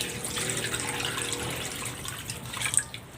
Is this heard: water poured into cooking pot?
yes